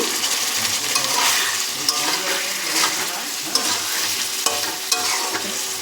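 Garlic and spice masala with pointed gourd sautés in a pan with a splash of water, giving a dense, steady sizzle punctuated by sharp clacks of the stirring spoon, close and loud.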